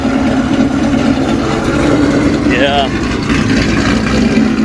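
Modded 1,200hp wide-body Shelby GT500 Mustang idling after startup, a loud, steady, deep engine rumble running throughout, with a person briefly speaking over it.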